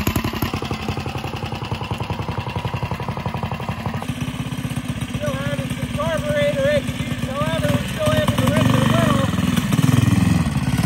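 Baja Warrior minibike with a modified Predator 212cc engine running steadily, a loud close-up clattering small-engine drone that revs up near the end, with talk over it.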